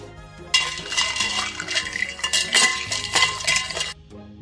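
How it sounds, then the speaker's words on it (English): Drink-mixing sound effect, a close burst of sloshing liquid with glassy clinks and rattles running steadily for a few seconds before stopping abruptly, with no talk. "Mixing drink."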